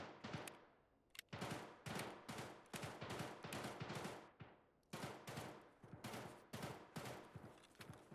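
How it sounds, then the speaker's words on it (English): Sustained bursts of automatic gunfire from the Escape from Tarkov game, loud repeated volleys with short gaps across the whole stretch, no talk over it. "Awful lot of shooting over there."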